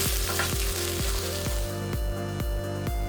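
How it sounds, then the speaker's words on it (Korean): Vienna sausages fry with sliced Korean rice cakes in a pan, crackling in a busy, continuous sizzle, with a regular series of soft knocks as they are stirred and turned. "비엔나 소세지 넣고 살짝 색깔이 날 때까지 볶아줬다."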